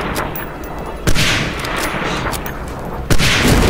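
In the Medal of Honor: Allied Assault video game, a sniper rifle fires two loud, sharp shots about two seconds apart, each with a short echoing tail. Lower in-game rumble and ambient battle noise run underneath.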